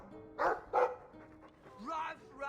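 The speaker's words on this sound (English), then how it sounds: "I like the doggy." A dog in the Dragon Age 2 video game gives two short, fairly loud barks close together, then a brief whimpering yip follows amid soft game ambience.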